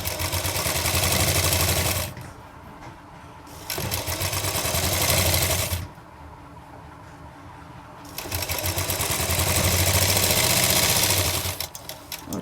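Electric sewing machine stitching a girl's umbrella frock, running in three loud, steady bursts with short quiet pauses between, close and alone without talk.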